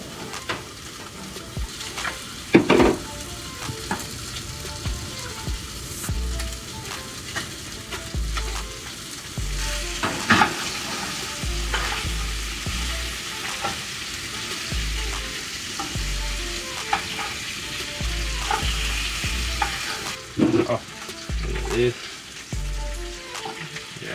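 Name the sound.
fish frying and sizzling in a pan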